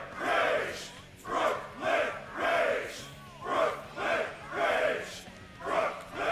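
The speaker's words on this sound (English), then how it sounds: "as the crowd chants in support." A crowd at a fight event chants in support in a steady rhythmic pattern, about seven loud swelling shouts repeating roughly once per second, with no other sounds over it.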